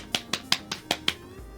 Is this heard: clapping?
yes